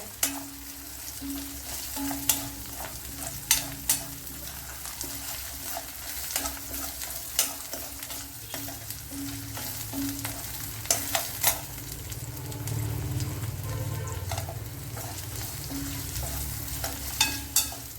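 Coconut and rajma beans fry in a pan for a Kerala-style ularthiyathu, a steady close sizzle with scattered spatula clicks and scrapes running throughout, growing slightly louder and denser toward the end.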